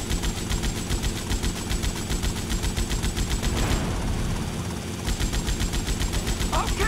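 Helicopter-mounted machine gun in GTA Vice City firing rapid, evenly spaced bursts, close and loud, with a brief pause near the middle before the rattling resumes, rotor and engine drone underneath.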